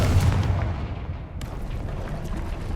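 A Confringo fire-blast spell explodes in Hogwarts Legacy, giving a heavy, booming low-end blast with a rumbling tail that settles into a steady background roar.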